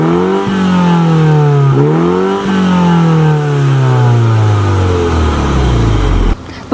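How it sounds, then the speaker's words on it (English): A 2022 Mini Cooper JCW convertible with a 2-liter turbo four-cylinder revs hard through its exhaust, rising and dipping in pitch several times before a long falling sweep, loud and close, then cutting off abruptly. "your exhaust sounds like this."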